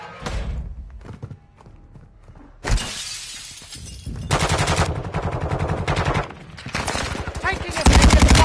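Heavy gunfire during a firefight, loud and close, with automatic bursts, single shots and crashing impacts that sound like shattering glass, building into sustained volleys with short pauses between them.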